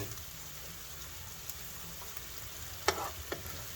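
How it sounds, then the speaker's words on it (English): Ingredients browning in hot oil in a pan for spaghetti meat sauce, a steady low sizzle and crackle throughout, with a couple of sharp clinks or pops near the end. "We're just going to kind of let that sit in the oil for a minute and brown, just till it's fragrant"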